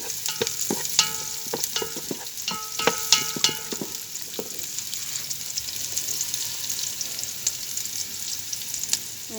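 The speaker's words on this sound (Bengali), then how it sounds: "পেঁয়াজটা বেশি ভাজবো না" Onion frying in a pan, a continuous crackling sizzle with a burst of rapid metallic spatula scrapes and taps over the first few seconds, then settling into a steady hiss, close and fairly loud.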